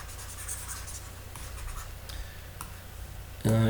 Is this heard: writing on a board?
yes